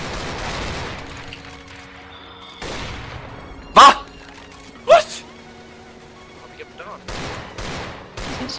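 In CS:GO, two sharp, loud gunshots ring out a second apart, fired through a wall in a pro match, with more gunfire bursts near the end under a caster's steady commentary.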